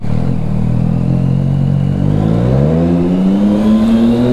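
A Peugeot and a Nissan car drive close by, engines rising in pitch as they accelerate together, a loud, steady revving roar building over a few seconds with no speech.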